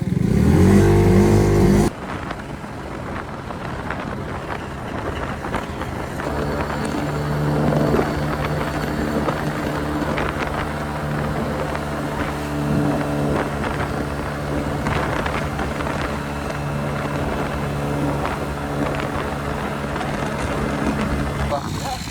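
Four-stroke engine fitted with a sports exhaust: a loud burst at the start, then a steady, close running drone held at fairly even revs, with faint voices now and then.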